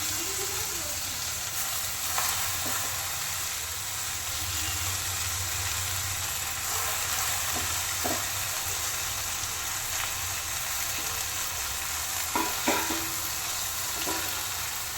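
Fenugreek leaves fry in a pan with a continuous moderate sizzle, and occasional sharp scraping knocks come as the greens are stirred.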